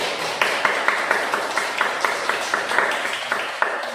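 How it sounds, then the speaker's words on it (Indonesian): Rhythmic group clapping in a school class, a steady beat of roughly two claps per second that sounds close and fairly loud, held in unison for several seconds. "Tepuk tangan untuk diri kita sendiri."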